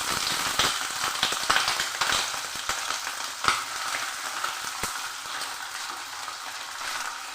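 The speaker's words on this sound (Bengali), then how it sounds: "তেল গরম হয়ে গেছে এর মধ্যে আমি দিয়ে দিচ্ছি কালো জিরে কালো জিরেটা একটু ভেজে নিচ্ছি" Black cumin seeds frying in hot mustard oil in a wok give a steady, bright crackling sizzle, close and continuous, with scattered pops throughout and no voices.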